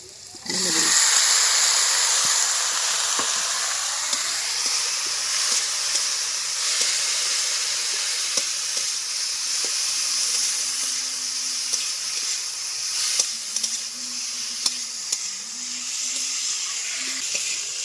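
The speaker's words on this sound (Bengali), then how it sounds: "আলু করে ভেজে নিচ্ছি কষিয়ে নিতে হবে ডুমুরো আলুটা" Boiled figs and potatoes fry in oil with ground cumin and spices, giving a steady loud sizzle that runs throughout, with occasional light stirring scrapes and small crackles.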